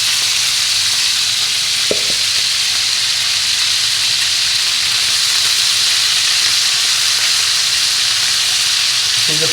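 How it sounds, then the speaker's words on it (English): Pork and pancetta browning in small batches in a pan on very high heat for chili con carne, giving a loud, steady sizzle and crackle that runs unbroken throughout, with a couple of faint clinks. "See, the pan's on a very high heat. That's because I want the meat to brown, not to boil."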